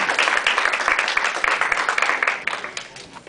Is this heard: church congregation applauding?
yes